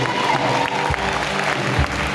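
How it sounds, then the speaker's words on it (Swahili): A church congregation applauding at a worship service, a brief, dense burst of clapping from many hands, loud and close, with crowd murmur underneath. "Jamani, makofi kwa Mungu."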